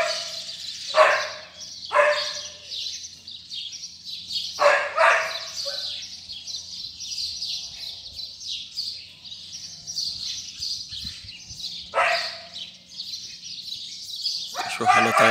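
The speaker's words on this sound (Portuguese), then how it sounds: "Cachorrada tá latindo demais" Dogs bark on a Sunday morning in several separate bursts of one or two sharp barks spread across the stretch, moderately loud, while songbirds chirp continuously in the background.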